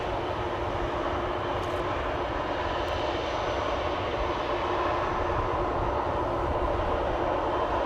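An airplane departs from Amsterdam Schiphol Airport with a steady, loud jet engine roar that holds at a constant level throughout, heard from a distance with no talking.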